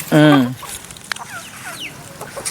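A native fighting-breed hen and rooster give one loud, close drawn-out squawk, then softer scattered clucks and chirps, with someone talking faintly in the background.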